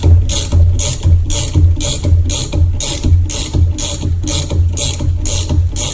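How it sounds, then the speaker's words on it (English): A bearing press tool driving the second bearing into the dog-bone suspension linkage socket of an Aprilia motorcycle, heard as a steady, regular series of loud ratcheting clicks, about two per second, close up with no talking. "continue to drive the second bearing into the socket"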